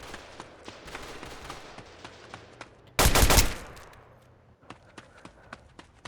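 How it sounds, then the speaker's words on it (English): A gun in the South Bronx video game update fires a series of sharp, quick shots, followed by a loud dense blast of gunfire and more scattered shots. The shots are close, with no one talking. "Oh, I shot him 3 times and he's still not dead."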